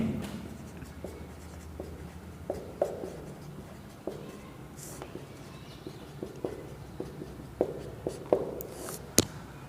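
Marker or chalk writing on a board during a class-ten science lesson, heard as a series of faint scratchy strokes and taps spread through the clip over a low room hum, with no speech.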